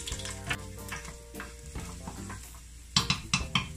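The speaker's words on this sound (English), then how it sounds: "I'm gonna put them to burn in the oil" Garlic frying in hot oil for Jamaican oxtail, a steady close sizzle with stirring and a few sharp clanks of utensil against the pot near the end; no talking.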